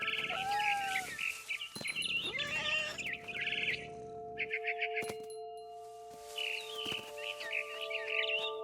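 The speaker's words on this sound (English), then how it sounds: "Then I heard chirping outside my window. It was a barn swallow going back to her nest." Several short, high barn swallow chirps in the video game What Remains of Edith Finch come in bursts over a steady electronic hum, with a few sharp clicks between them.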